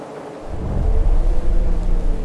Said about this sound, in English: This is a terrible storm.